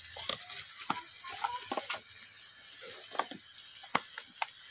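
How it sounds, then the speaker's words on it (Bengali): Ginger paste stirred into tomato masala in a frying pan for a bean, potato and cauliflower dish; a steady soft sizzle runs throughout, with scattered scraping clicks from the spoon, close and fairly quiet. "তো আদাটাকে দিয়ে আমি টমেটোর সাথে এইভাবে নাড়াচাড়া করে নিচ্ছি।"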